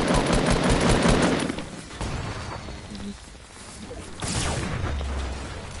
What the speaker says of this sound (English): Shooting down at us.